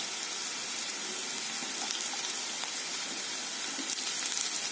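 Crushed garlic cloves go into potato masala frying in a pan, giving a steady, close hiss of sizzling oil that lasts the whole moment without any talk.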